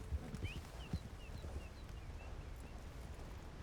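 Horse hooves clip-clop at a slow, uneven walk in Red Dead Online, a few close, distinct thuds near the start, then softer steps over a steady ambient bed.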